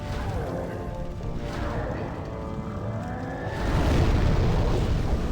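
A fiery explosion attack from the Flamelurker boss in Demon's Souls, a loud roaring blast that swells near the end over dense game rumble, with a player's voice speaking along the way.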